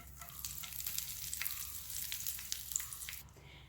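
A sprig of curry leaves sizzles and crackles in hot oil in a pan for a fish fry, a dense steady frying hiss with small pops, close and fairly quiet.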